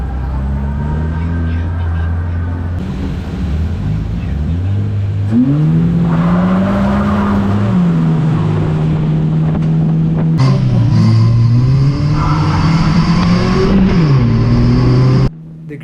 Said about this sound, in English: The green flag dropped and the race was underway.